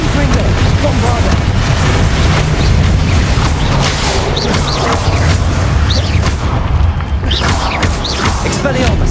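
Spell blasts in the Hogwarts Legacy video game: a dense, loud barrage of booming explosions and crackling impacts throughout, with a voice shouting spell names over the din.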